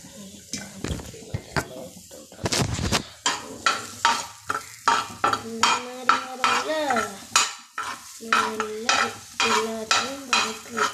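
Sandwich filling sautéed in a pan over a medium flame, with rhythmic spatula scrapes and stirring strokes against the pan over a steady sizzle, close and fairly loud; a voice speaks briefly between strokes.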